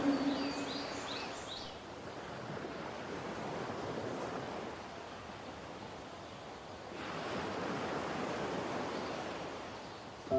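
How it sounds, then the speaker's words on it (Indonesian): Sea waves at night wash in and recede in slow, soft surges, a continuous broad hiss of surf with no voices. "Tenang banget rasanya mendengar suara air laut dan suasana malam seperti ini."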